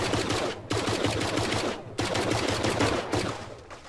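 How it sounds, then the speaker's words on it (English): Vehicle-mounted guns firing in the Brick Rigs video game, loud continuous rapid bursts in two long stretches separated by brief gaps, close and without talk. "I'm just testing the guns."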